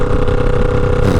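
A 2009 Kawasaki Ninja 500 (EX500) parallel-twin engine runs hard and steady at high revs, loud and close, with a dense buzzing drone that holds without letting up.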